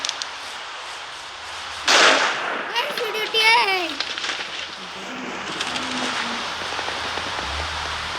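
Steady rain hiss in the video game Minecraft runs across the whole stretch, with a sharp loud burst near two seconds and a person talking over it in the middle.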